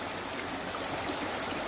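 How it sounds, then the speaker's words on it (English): A small creek flowing down off a mountain near Mount Si, Washington, in the early morning, giving a steady, close, full-bodied rush of water that holds constant throughout with no talking. "the little creek that's coming off of the mountain in my morning walk."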